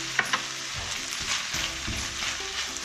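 Half an onion sizzling in a pan with seedless tomatoes while being stirred, a constant frying hiss broken by scraping stirs, close up with no talk.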